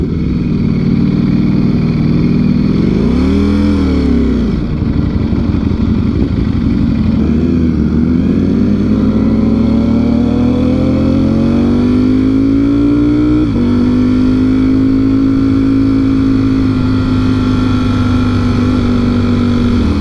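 A Ducati Streetfighter V4S motorcycle engine revs loudly and close, its pitch climbing and falling through several sustained throttle sweeps before settling into a high, steady drone.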